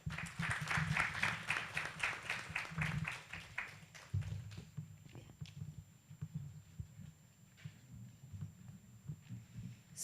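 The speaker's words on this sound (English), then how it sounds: "So let's give the applause to the presenter." Audience at a conference thematic session applauds a presenter, a few seconds of quick rhythmic clapping that fades out, followed by a quiet room with low hum and faint scattered sounds.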